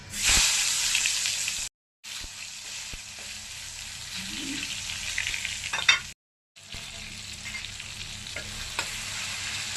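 Tomato sizzles in hot oil tempered with cumin seeds and a bay leaf, a steady loud frying hiss with stirring scrapes, broken by two brief silent gaps.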